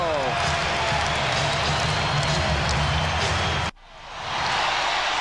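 A capacity basketball arena crowd in Chicago roars in a standing ovation, a dense, loud wash of cheering and clapping that cuts off abruptly, then swells back in.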